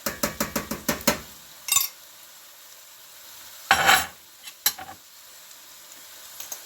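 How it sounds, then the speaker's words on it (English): Tomato sauce going into a pan while tuna cooks: a quick run of rhythmic metallic taps, then scattered scrapes and a couple of louder sizzling bursts, with quiet gaps between them. "I'm going to add the tomato sauce"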